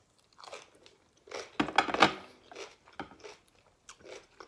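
Crunchy homemade corn dogs are bitten and chewed with white kimchi at a mukbang meal, giving several close, loud crunching bites in a cluster, followed by softer, quieter chewing.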